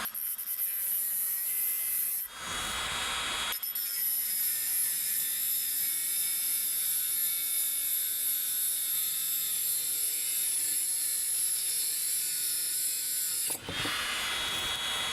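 A printed circuit board held in a vise is cut by a tool that gives a steady, high, buzzing whine, broken by a short noisy burst near the start and another near the end, heard close with no speech.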